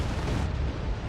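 Ship cannon fire during a naval battle in the Assassin's Creed Rogue video game, a dense rumbling blast that fills the whole clip, loud and close.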